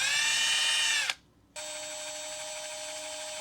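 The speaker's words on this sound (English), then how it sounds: "this is my Japanese Milwaukee FID2 that I imported from Japan" A Japanese-market Milwaukee FID2 impact driver with a Japanese chuck spinning freely, a high motor whine that cuts out briefly and restarts at a steady pitch, no voices.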